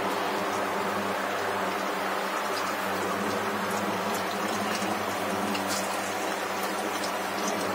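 Paneer pieces fry in a pan of hot oil with a dense, continuous sizzle and scattered sharp pops, steady and close the whole time with no talking.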